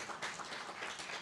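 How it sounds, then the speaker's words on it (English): Faint, steady applause from a conference audience honoring the event's organizing team, a soft even patter of many hands without breaks. "A big applause to that team who has been working behind the scene."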